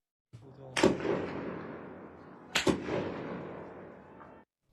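Militia members of Iran's IRGC or Basij fire their guns: two loud, sharp shots about two seconds apart, each ringing out with a long echoing tail.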